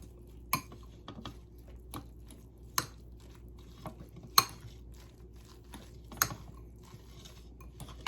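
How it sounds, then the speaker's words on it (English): A chicken crust pizza base of chicken, cheese and salt being mixed in a bowl, sparse sharp taps and clinks of the utensil against the bowl over a quiet background, no talk. "Let's get this all mixed."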